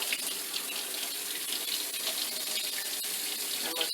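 Water from a kitchen tap running steadily into a sink, a dense, close, even rush of splashing with small clatters near the end.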